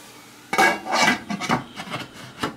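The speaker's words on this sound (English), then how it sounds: "Now I'm going to put the cover" A lid placed on a cooking pot of potato and fenugreek sabzi: a close metallic clatter and scrape as the cover is set down and shifted, followed by a few lighter knocks.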